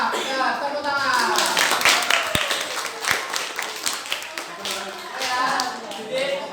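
A classroom of students claps together, with irregular sharp hand claps and taps mixed with chatter and voices, rising and falling over several seconds.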